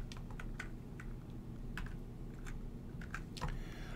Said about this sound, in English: I'm going to type my large ring box.